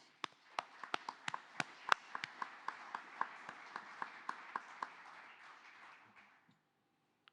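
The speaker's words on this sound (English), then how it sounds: "Please give a round of applause" Studio audience applause for a recorded radio show, a broad wash of clapping with sharp individual claps standing out, sustained for about six seconds before stopping abruptly.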